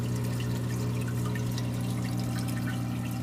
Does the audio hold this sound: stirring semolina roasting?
no